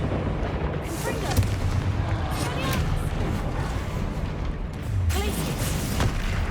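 Confringo fire-blast spells go off in Hogwarts Legacy combat, a steady rumble of booming impacts and bursts with a couple of sharper blasts near the end, under busy battle noise.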